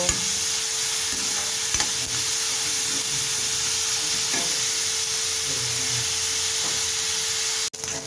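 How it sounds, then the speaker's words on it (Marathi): Onions and curry leaves fry in a pan for pav bhaji and are stirred, giving a steady close sizzle with occasional scraping strokes and a faint constant hum underneath, no talking. "हे बघा आता कांदा चांगला लाल झाला आहे"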